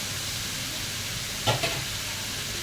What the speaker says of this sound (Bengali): আলুটাকে বেজে নিচ্ছি।